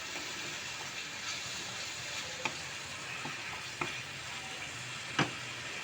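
A masala of tomato paste and kasuri methi fries in a pan, giving a faint, steady sizzle broken by a few sharp spatula clicks against the pan.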